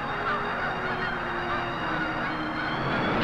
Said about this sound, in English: Canada geese also fill the air.